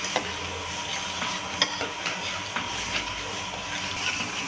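A pot of sweetened milk with vermicelli, raisins, cardamom and nutmeg is stirred, a soft steady bubbling hiss marked by occasional light scrapes and taps of the spoon.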